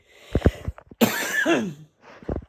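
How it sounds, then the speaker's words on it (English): Several harsh, raspy coughs from one person nearby, a burst of two or three, then a longer hacking cough, then a final pair. "Please forgive the coughing."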